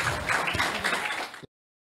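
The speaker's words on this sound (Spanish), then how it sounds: "El fuerte aplauso para Pedro." A short burst of dense applause greets an award winner being called up, loud and close for about a second and a half before cutting off abruptly.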